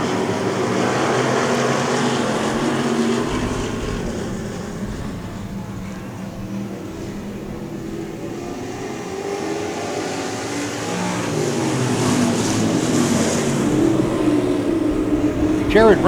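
Race cars racing at Heart O Texas Speedway: a continuous, rough wash of engine roar that swells and fades as cars pass, under an announcer's commentary.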